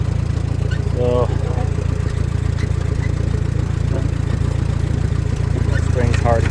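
A Farmall M tractor's engine runs steadily at a constant loud, even drone while it plows hard soil, close by, with a voice briefly audible over it.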